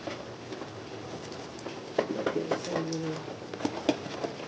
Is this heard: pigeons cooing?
yes